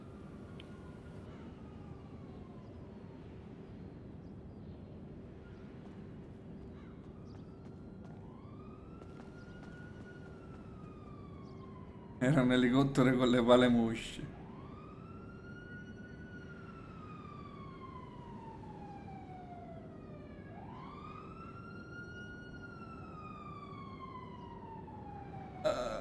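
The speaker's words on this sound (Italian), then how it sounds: "Cazzo, sento le sirene, ma dov'è?" Police and ambulance sirens wail in repeated rising and falling sweeps in Grand Theft Auto V, moderately distant under a steady engine drone, with a brief burst of louder speech partway through.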